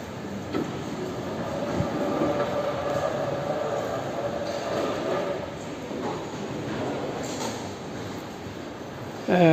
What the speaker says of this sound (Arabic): التران ديالنا واقف تمايا